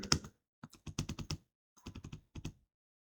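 Keys clack on a computer keyboard in short quick bursts, a brief flurry followed by two more clusters of crisp close taps separated by pauses.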